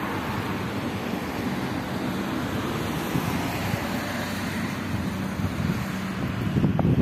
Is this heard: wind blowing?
yes